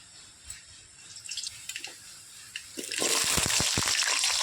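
Potatoes dropped into well-heated oil: a few small drips and splashes, then a sudden loud, sustained frying crackle that fills the last second and a half, nearby and with no talking.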